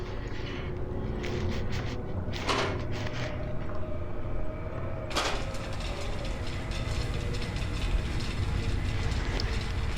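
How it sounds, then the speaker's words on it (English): A toy-like train rattles and clicks steadily around a track loop in the video game The 7th Guest, a continuous mechanical clatter with a few louder knocks. "So I can turn the train around if I run it around this loop here."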